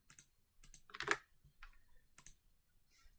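Quiet, close typing on a computer keyboard, a few short irregular clusters of key clicks separated by brief pauses, with no voices.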